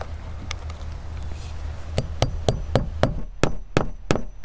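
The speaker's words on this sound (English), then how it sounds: "We're going to start nailing as close to the middle of the span as we can" Nails are hammered into house siding. After a quiet start come about nine sharp, evenly spaced hammer blows, loud and close, with no talking.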